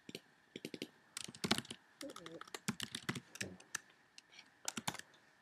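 Typing code on a computer keyboard, rapid close clicky keystrokes in irregular bursts, with a faint voice in the background.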